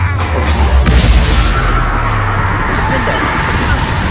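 A Confringo blasting spell explodes in Hogwarts Legacy with a loud, dense, roaring burst of crashing noise that fills the whole stretch, booming low end under a harsh wash of debris, with battle sounds layered in.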